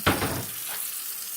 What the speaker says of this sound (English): I'm going to add my filtered water